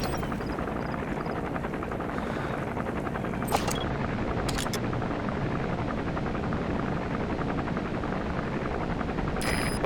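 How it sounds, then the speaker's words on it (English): An arms dealer's helicopter in Metal Gear Solid V flies on patrol, its steady rotor drone holding at a constant level throughout, with a few brief sharp clicks or shots breaking in. "Looks like the arms dealer's chopper is gonna patrol for the security forces."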